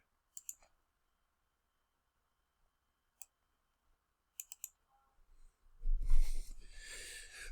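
A computer mouse clicks while drafting in AutoCAD: a quick double click and a third tap, a lone click a few seconds later, then another rapid triple, before a louder burst of rustling noise at the end.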